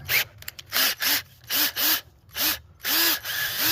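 A power drill driving a thread tap whirs in short repeated bursts, about seven spurts rising in pitch as each one spins up, close and loud.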